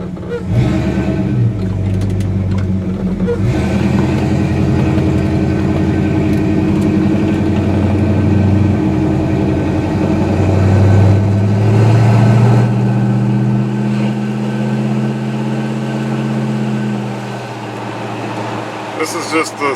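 A 1965 Chevrolet Impala SS cruising down the road with its windows down, giving a steady loud engine drone and road rumble that holds for about twenty seconds with small surges in pitch.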